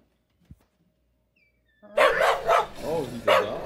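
A dog barks several times close by in a loud, rapid run of bursts, following a brief quiet stretch with a single faint thump.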